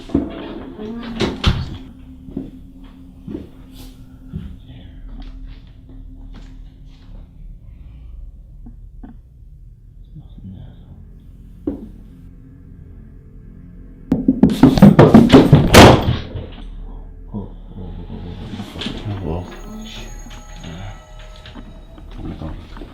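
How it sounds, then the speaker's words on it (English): A door thuds shut and scattered knocks and footfalls sound in a quiet house, with a burst of loud clattering thumps in the middle and softer steps and taps on either side. "The sound of the closed footsteps along with the door closing right next to him"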